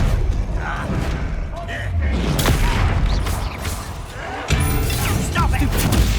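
A Bombarda blasting spell explodes in Hogwarts Legacy. Heavy, rumbling booms and crashes fill a dense, loud battle, with a sharp impact partway through and voices talking over it.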